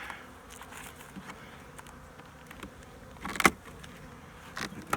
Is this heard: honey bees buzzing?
yes